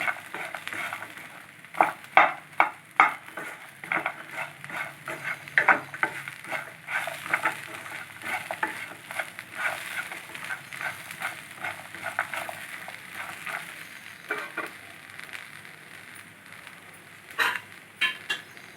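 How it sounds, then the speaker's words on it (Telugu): Curry leaves and slit green chillies sizzle in hot oil, with crackling bursts and repeated clinks and scrapes of a spoon stirring in the pan. "కరివేపాకు పచ్చిమిర్చి రెండు సన్నగా చీల్చి వేసుకోవాలి"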